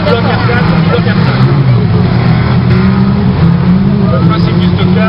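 Stock car racing with original Renault R4 and R5 engine blocks, a dense, steady roar of several engines revving around the track, loud and continuous, with crowd babble beneath.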